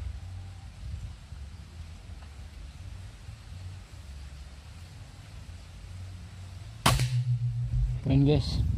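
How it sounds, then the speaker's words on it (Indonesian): A single sharp air rifle shot with a Moro HFT barrel fired at a pin target 22 m away, crisp and fairly close against a low steady outdoor hum, followed by faint ringing and a few quieter clicks. "Tembakan ketiga, guys."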